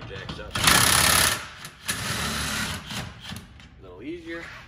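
Cordless drill driving an RV's stabilizer jacks down, a loud steady whirring burst up close followed by shorter mechanical grinding, with someone talking over and between the runs.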